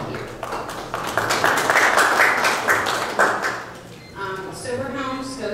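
An audience at a neighborhood association candidate forum in Lake Worth claps in a dense burst of applause that fades after a few seconds, followed by a person talking.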